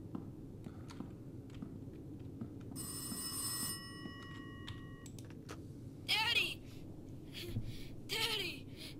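A telephone rings once with a shrill electronic bell in the horror video game Rise of Insanity, followed by quiet background noises and later by voices calling out.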